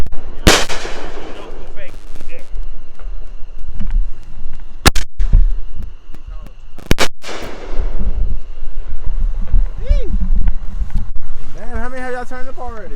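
Mortar firework shells go off outdoors as a few sharp, loud blasts spread through the clip, with crackling in between. People talk and shout throughout.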